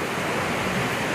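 Heavy typhoon rain pours down in Ligao, Albay, a dense, steady rushing hiss with no pauses, close and loud.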